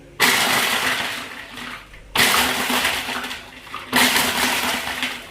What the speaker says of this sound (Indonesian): Ini kita mau blender dagingnya ya. Sebelumnya kita masukin es batu dulu.